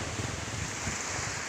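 Sea waves wash steadily onto the coast at Merauke during rough weather, a constant close rushing roar with wind buffeting the microphone and no voices.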